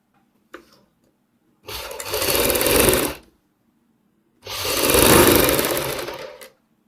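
An electric sewing machine stitches a patch onto a neckline in two bursts of rapid whirring, each about a second and a half long, separated by silence, with a faint click beforehand.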